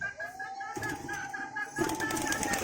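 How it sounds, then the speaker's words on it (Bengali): Pigeons in a home loft coo in a steady, repeated pulse, joined by bursts of wing flapping and rustling partway through, close and moderately loud. "এখানে একটা নতুন পায়রা"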